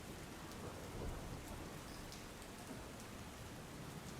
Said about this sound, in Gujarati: આજે વહેલી સવારથી જ અમદાવાદમાં વરસાદી માહોલ જામેલો જોવા મળી રહ્યો છે